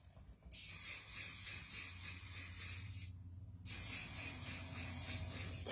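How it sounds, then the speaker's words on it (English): Hairspray is sprayed onto a page of watercolor paint swatches in two long hissing bursts, the first about two and a half seconds and the second about two seconds, separated by a short pause. "So I'm just going to spray some of this on here."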